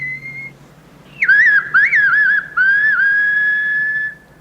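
Dolphin whistles slowed down: a few sliding, wavering tonal calls, a short flat tone and then longer rising-and-falling sweeps ending in a sustained steady whistle, loud and clear against faint background.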